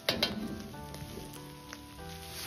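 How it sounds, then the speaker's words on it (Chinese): Garlic, scallion and Pixian bean paste stir-fry in a hot wok with a steady close sizzle, opening with a couple of sharp clanks of the spatula, then a continuous crackling hiss. "再放入10克左右的郫县豆瓣酱一起翻炒，炒出颜色和多余的水分"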